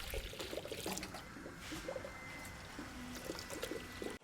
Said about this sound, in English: Electric water pumps are awesome